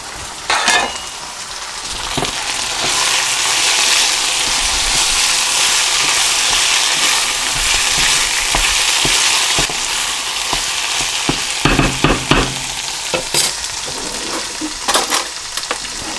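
Empanada filling with Spanish olives fries in a pan, a steady loud sizzle running the whole time, broken by the scrape and clack of a spoon stirring, with no talk.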